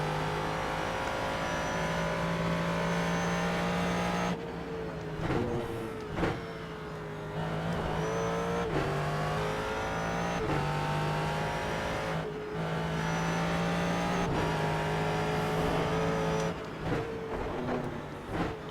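A Ford GT3 race car engine in iRacing at Road Atlanta, a loud sustained droning whine that rises through the gears, with abrupt drops at each upshift or lift and repeated cycles of acceleration and braking.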